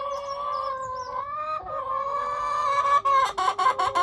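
Chickens in a low backyard coop give repeated clucks and drawn-out calls, close and fairly clear, with a flurry of quicker, choppier clucking toward the end.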